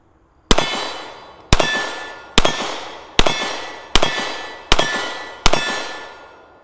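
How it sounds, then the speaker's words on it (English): Seven sharp gunshots from a Glock 43 pistol with an extended magazine ring out at a shooting range, evenly spaced about a second apart, each loud crack trailing a brief metallic ring. "Take a few shots with the Glock."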